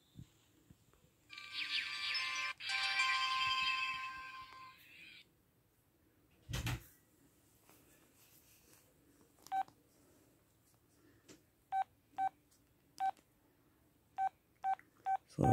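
An Audiovox CDM-8940 Verizon flip phone powering on, with a rising electronic startup melody, then a single loud click and a series of short evenly spaced keypad beeps, all close and clear.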